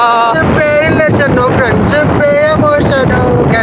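Strong wind rush buffets the microphone while riding a scooter on a trip from Bengaluru toward Tamil Nadu, with a voice singing or talking loudly over the constant roar.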